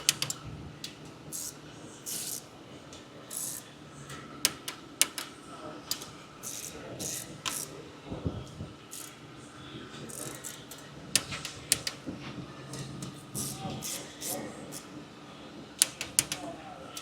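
A ratchet clicking while bolts are tightened on a 5.3 LS engine, with bursts of sharp, close clicks repeating throughout and a voice speaking at times between them.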